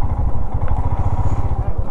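Motorcycle engine idling close by at a parking spot near the Kargil War Memorial in Ladakh, a loud steady low throbbing with a rough pulsing beat throughout.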